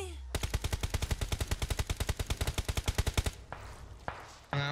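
Rapid bursts of automatic gunfire from PUBG on the Sanhok map, a long run of evenly spaced loud shots followed by a few scattered single cracks.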